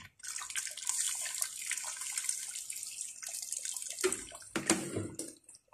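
Water is poured into a cooking pot holding chicken and potatoes, making a steady broadband splashing rush that runs for several seconds, then a few louder sloshes and splashes near the end, with no talking.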